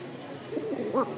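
A Raj Golla pigeon gives a single soft, brief coo, faint but close, over quiet background.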